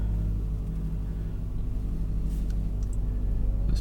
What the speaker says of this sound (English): So just start the car and back out again.